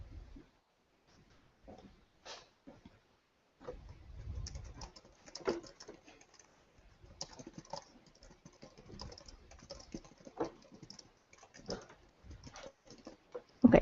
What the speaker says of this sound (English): let me go ahead and type this up a second